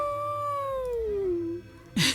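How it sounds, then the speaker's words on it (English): Rex, a character in I Was a Teenage Exocolonist, gives a single drawn-out howl that slides down in pitch over about a second and a half, close and clear, followed by a short sharp burst. "He howls."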